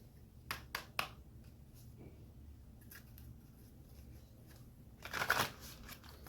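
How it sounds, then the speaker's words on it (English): Tarot cards being shuffled by hand, a few soft riffling flicks near the start and then a louder, brisk burst of shuffling near the end, close and alone. "And one more shuffle."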